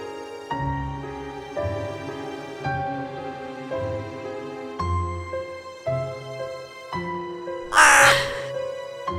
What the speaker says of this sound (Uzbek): U qarg'aning ovozidan qo'rqib uyg'onib ketdi